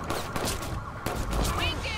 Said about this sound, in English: I forgot they can shoot through windows